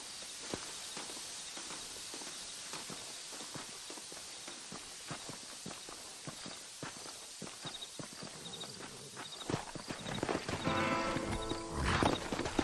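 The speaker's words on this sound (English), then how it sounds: "There should be some horses for us across the way." Horse hooves clip-clop steadily through a Red Dead Redemption game scene set in the Mexican Revolution, a continuous rhythmic trot at close range that grows busier and louder toward the end, with no talking.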